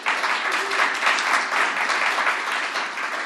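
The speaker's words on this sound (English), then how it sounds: "Let's give him a round of applause." An audience at a Governor Hochul event on the Interborough Express feasibility report applauds the MTA chair and CEO with dense, steady clapping that holds throughout at a strong level.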